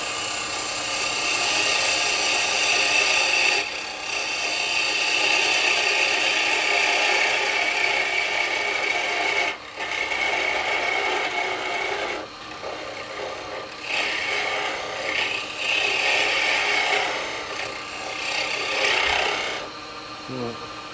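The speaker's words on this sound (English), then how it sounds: "I'm going to use the square chisel for a minute to get clean the bottom up" Square carbide chisel scraping a spinning wooden Christmas bell blank on a lathe, a continuous loud rasping hiss with brief dips as the cutter is eased off and pushed back in.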